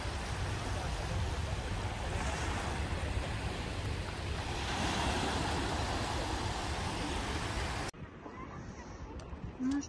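Mediterranean Sea waves wash onto the beach in Tel Aviv, a steady broad surf roar with some wind noise, cutting to a quieter scene near the end, with voices faintly present.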